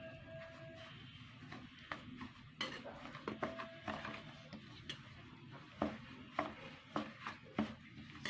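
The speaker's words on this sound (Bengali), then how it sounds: "এরপরে আমি এই ময়দা টক দই আর এই সুজিটা নিয়ে আমি ভালো করে মিশিয়ে নেবো" Flour, sour yogurt and semolina being mixed together in a bowl for semolina rasa bora, heard as soft, quiet stirring and scraping with repeated light knocks of the utensil against the bowl and no voices.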